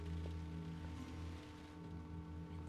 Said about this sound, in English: Look at that rain. So crispy and clean. The rain is so peaceful.